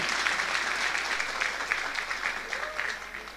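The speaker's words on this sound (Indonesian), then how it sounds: "Tepuk tangan kagem santri." An audience at an Islamic boarding school haul and khotaman gathering gives a sustained round of applause for the santri, with even, dense clapping throughout.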